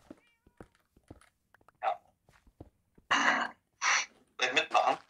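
A cat meowing in Minecraft, heard as several short, fairly loud meows in the second half, with quiet clicks and small sounds between them.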